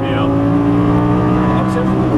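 A Lamborghini Gallardo LP550 engine roars loud and close while upshifting on a track, its steady droning pitch stepping through a gear change, with a voice talking underneath.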